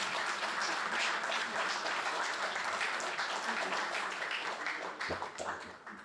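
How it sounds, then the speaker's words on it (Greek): Listeners at a Greek sports-themed gathering break into applause, a full, steady patter of many hands that fades slightly toward the end with a few louder claps. "Χειροκρότημα, αν μη τι άλλο."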